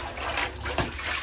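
Water splashing and trickling as a container is rinsed out in a tub, a short run of close sloshing with a couple of louder splashes.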